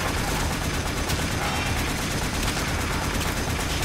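Rapid automatic gunfire from the video game Warframe runs as a dense, continuous barrage at steady loudness, with no pauses between shots and no speech.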